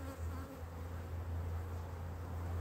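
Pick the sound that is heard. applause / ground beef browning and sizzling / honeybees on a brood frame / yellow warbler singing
honeybees on a brood frame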